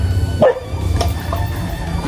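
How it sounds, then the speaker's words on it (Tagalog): A dog barks once, sharp and close, then the background settles into low outdoor noise. "Oh, may aso, baka kagatin ako yan."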